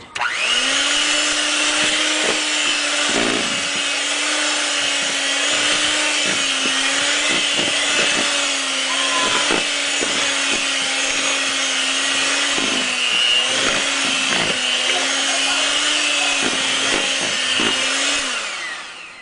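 An electric mixer beats buttercream on low speed, a steady whirring motor hum with a scraping and knocking rhythm from the beaters against the bowl, close and loud throughout.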